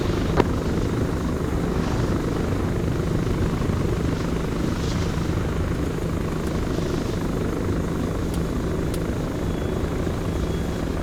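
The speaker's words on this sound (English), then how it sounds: "Chinook's on the deck, Alpha loaded up." A Chinook helicopter in the Arma 3 military game lands with a loud, constant rotor and engine roar that fills the whole stretch, close and unbroken, with no voices over it.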